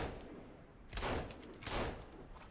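Gunshots ring out in a survival video game, two loud separate bursts about a second apart over a low background.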